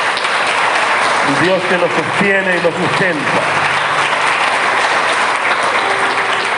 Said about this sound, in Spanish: podemos darle un aplauso a ese Dios grande